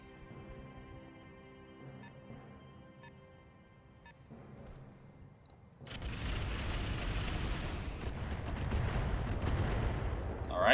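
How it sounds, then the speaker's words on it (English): Rockets from a mech slam into a building in the BattleTech RogueTech game, a sudden loud broadband barrage of booms and rumbling blasts that cuts in midway over quieter background and keeps roaring to the end. "using his rockets on a building"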